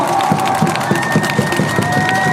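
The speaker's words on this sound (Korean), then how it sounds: "뜨거운 박수와 함성으로 맞이해주시죠." Fans cheer and shout in a stadium after a Korean pro baseball game with SSG, a broad crowd roar with scattered claps and a sustained tonal whistle-like sound over it.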